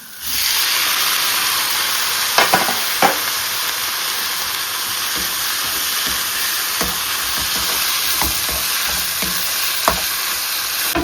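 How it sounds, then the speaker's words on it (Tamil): Chopped tomatoes hit a hot pan of ginger garlic paste for tomato rice, setting off a loud, steady sizzle that runs throughout, with a few sharp spatula knocks and stirring scrapes over the top. "இப்போ இதுக்குள்ள கட் பண்ணி வச்சிருந்த தக்காளியை சேர்ப்போம்"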